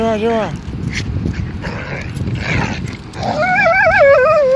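A dog out on a nightly walk whimpering and yipping in high wavering whines at the start and again toward the end, close and loud, with a person talking insistently in between.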